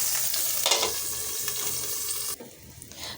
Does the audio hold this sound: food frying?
yes